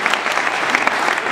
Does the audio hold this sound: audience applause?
yes